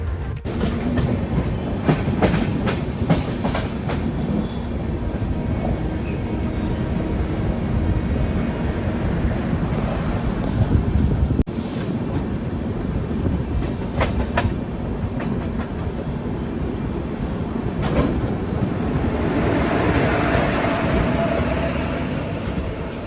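Puri Gandhidham Superfast Express with LHB coaches running at speed, a steady loud rumble and rhythmic wheel clatter heard from inside the train throughout, with brief sharper clicks over rail joints.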